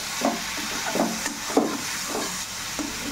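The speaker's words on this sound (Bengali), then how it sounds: "এইভাবে ভালো করে কষিয়ে নিতে হবে।" Taro stems and dried fish being sautéed in a pan, with a steady sizzle under about five rhythmic scraping stir strokes, close and moderately loud.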